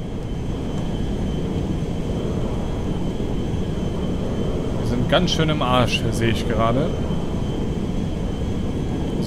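A cargo jet in GTA 5 flies with a steady, loud droning engine rumble throughout, while someone speaks briefly over it around the middle.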